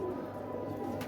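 A round-feathered fancy pigeon coos softly and continuously at close range, a low steady murmur that runs without a break through the whole short stretch.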